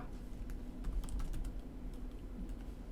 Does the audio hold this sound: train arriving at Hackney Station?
no